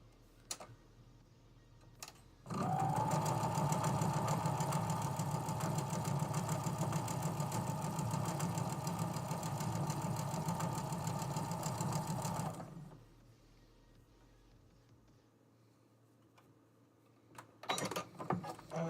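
Sewing machine stitching fabric, a fast steady whirring run of about ten seconds that starts and stops abruptly, framed by quiet handling sounds before and after.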